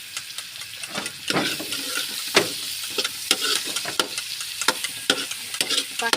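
Eggs fry in a clay pan with a constant crisp sizzle up close, overlaid by repeated spatula scrapes and taps arriving every second or so.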